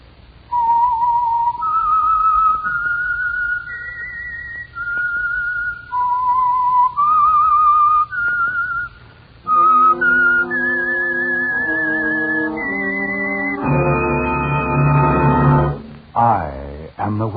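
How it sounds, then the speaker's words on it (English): A bright, melodic whistled signature tune for the Signal Oil radio program The Whistler, rising and falling in clear sustained notes, loud and close, then swelling into orchestral music at the end. "the signal to listen for is this whistle that identifies the Signal Oil program"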